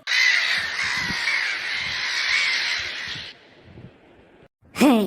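A crow caws loudly and continuously for several seconds, then falls silent, and a short harsh squawk follows at the end.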